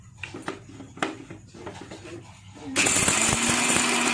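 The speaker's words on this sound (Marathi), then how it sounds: "मी आता शेंगदाणे आणि लसूणचे मिक्सरमध्ये ग्राइंड करून घेते" Kitchen clatter gives way abruptly to a loud, steady whirring roar as a mixer grinder starts up grinding peanuts and garlic, running for the rest of the clip.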